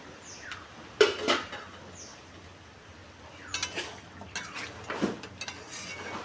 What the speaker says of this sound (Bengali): আমার ঢাকনাটা তুলে নেবো বন্ধুরা ঢাকনা তুলে